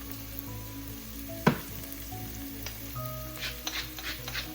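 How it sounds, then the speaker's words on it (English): Onions sweating in a hot pan in a Filipino spaghetti sauce, a steady soft sizzle with a sharp clatter near the start and light stirring scrapes later, no talk. "we're gonna let our onions sweat"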